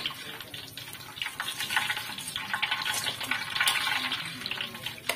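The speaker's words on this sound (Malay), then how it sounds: "Untuk kita goreng buat kali yang kedua ya." Tofu and meat patties fry in hot oil with steady bubbling and crackling sizzle that swells and fades slightly throughout, no voices over it.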